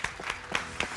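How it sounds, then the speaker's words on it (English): Sparse applause from an awards ceremony audience at the Play Your Part Awards in South Africa: about four separate claps spaced evenly across a single second, fairly faint and heard alone. "So a big round of applause once again."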